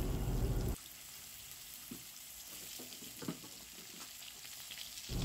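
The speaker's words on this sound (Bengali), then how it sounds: "ছোট ছোট ডুমো ডুমো করে কেটে রাখা আলুর টুকরোগুলো তেলের মধ্যে দিয়ে দেওয়া হলো" Small diced potato pieces fry in hot oil in a wok, a loud burst of sizzling at the start settling into a steady, softer hiss with faint stirring scrapes.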